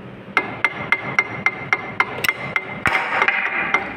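A hammer strikes a bearing being driven into a pump, with about a dozen sharp metallic knocks in a steady, fairly quick rhythm, close and clear over faint background noise.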